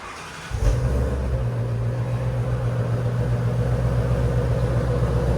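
A Ford Mustang GT350 with the 5.2L Voodoo V8 and a single X-pipe exhaust with no resonators fires up and revs, a sudden deep, loud rumbling roar that settles into a sustained throaty drone, close by and with no talking.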